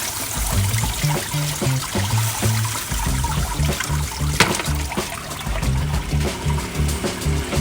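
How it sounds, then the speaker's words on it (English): A water pump in a Land Rover Defender overlander's onboard water system runs with a rhythmic low thumping pulse while shower water flows steadily, loud and close. "When we open the shower, it should start the pump again."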